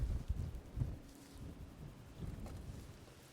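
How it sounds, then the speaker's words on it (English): Gusty wind buffets the microphone beside the water while carp fishing with maggots, coming as loud low rumbling bursts that rise and fall over a few seconds. "That wind's a bit naughty there now."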